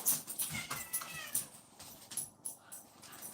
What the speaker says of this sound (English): Here's one of my cats.